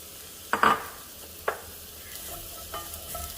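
A few short bursts of sizzling as olive oil hits a preheated pan, the loudest early, then quieter crackles fading into a low simmering hiss.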